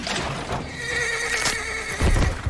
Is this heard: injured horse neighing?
yes